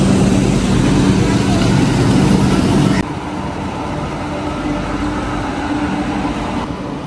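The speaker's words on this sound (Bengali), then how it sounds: "ফাইনালি 25 মিনিট দাঁড়ানোর পর ট্রেনটা কিন্তু ছাড়ছে রাউরকেলা থেকে" A superfast express train, the 22893 Sainagar Shirdi to Howrah, pulls out of Rourkela station. Its steady broadband rumble is loud for the first three seconds, then drops to a lower, even rolling noise that continues to the end.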